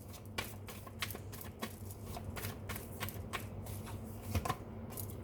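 Tarot cards being shuffled and handled, a quiet run of soft close-up flicks and taps at an uneven rhythm.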